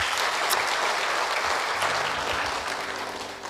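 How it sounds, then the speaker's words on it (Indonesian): Steady, dense applause from a church congregation at a Christmas sermon, cheering the men of the congregation, sustained and loud throughout and fading slightly toward the end. "tepuk tambah kaum bapak dulu"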